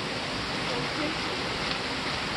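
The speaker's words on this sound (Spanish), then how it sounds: "por el ruido del río." A flowing river gives a steady, loud broadband rush of water that fills the whole moment without a break, close by and even in level.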